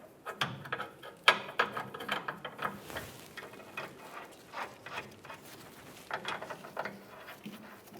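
A ratchet tightens nuts onto rear bumper studs of a 2007-2013 Chevrolet Silverado 1500, giving close, repeated clicking strokes in an irregular rhythm, with no talk.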